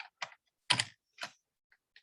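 A handful of separate keystrokes on a computer keyboard during a math lecture on circles: short, crisp clicks with gaps between them, fairly close and alone, with no talk over them.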